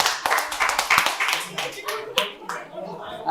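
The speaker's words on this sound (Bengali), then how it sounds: "তাহলে জোরে হাততালি হয়ে যাবে একটা।" Audience applause at a quiz competition held at Santiniketan Medical College and Hospital: a burst of clapping from a crowd with sharp hand-slap transients, mixed with voices talking over it.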